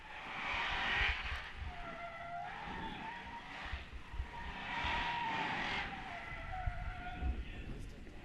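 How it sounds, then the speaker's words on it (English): Drift cars at a 2017 Spec-D Zestino Tires competition round rev their engines and skid their tires, with continuous engine roar, rising and falling revs and squealing tires throughout, while voices talk over the noise. "sounds like cars are revving up their engine for the next run."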